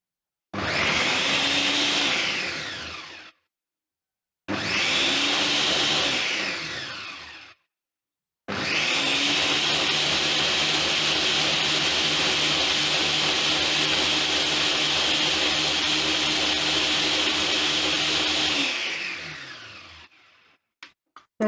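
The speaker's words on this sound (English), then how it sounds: "all of our ingredients are in the blender. We're going to turn it on" A blender making a smoothie runs loud in three bursts, two short pulses and then a long steady whir that stops abruptly, with no talking.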